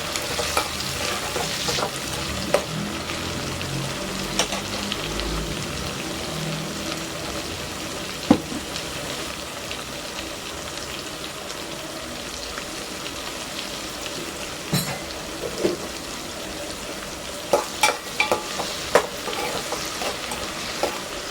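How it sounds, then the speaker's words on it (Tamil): Tomatoes and onions with salt sauté in a pan for a raw-mango fish curry, giving a soft, continuous sizzle with intermittent sharp spoon scrapes and taps, close and alone. "2 தக்காளி கட் பண்ணி வச்சுருக்கேன், அதையும் இதில் சேர்த்து கொஞ்சமாக இதில் உப்பு சேர்த்து நல்லா வதக்கி விடுங்க"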